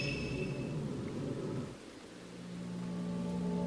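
Heavy rain pours steadily with a low rumble of thunder in the horror video game Fatal Frame: Maiden of Black Water, a dense hiss that dips briefly before swelling again.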